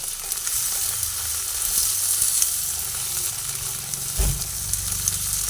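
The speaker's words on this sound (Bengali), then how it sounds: "কড়া করে কোনো কিছুই ভাজবো না অল্প অল্প ভাজা হবে" Spiny gourd (kakrol) fries lightly in a pan, a continuous close sizzle with occasional stirring scrapes and a brief louder clatter near the end.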